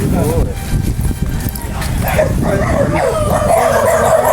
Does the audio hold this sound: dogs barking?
yes